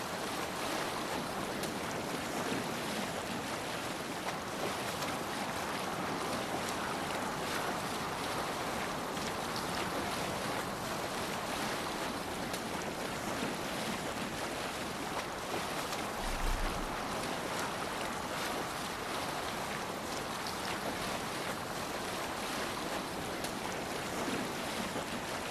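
Longship under sail on open waves in Assassin's Creed Valhalla, a steady rushing wash of water and wind filling the whole stretch at constant loudness, with a brief low thump midway and no voices.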